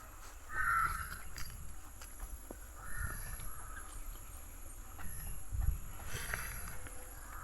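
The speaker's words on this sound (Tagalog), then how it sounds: "Daming uwak." Several crows caw in short bursts at a distance on a pig farm, over faint insect hum and low outdoor rumble.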